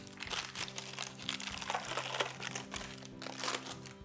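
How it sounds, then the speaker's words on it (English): Parchment paper crinkling and crunching as baked magic cookie bars are lifted out of a pan, a close, quiet run of irregular rustles and crackles with no talking. "See how easy they come out of the pan when you use the parchment paper."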